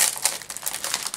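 A paper envelope crinkles and rustles in the hands, a quick burst of soft, close crumpling.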